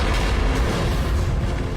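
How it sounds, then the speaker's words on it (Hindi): A boat explodes after kerosene fire reaches bombs aboard, in the 1997 film Anaconda: a loud, sustained, deep rumbling blast that fills the whole moment, with no talking. "एक भयानक धमाके ने पूरी बोट को हिलाकर रख दिया"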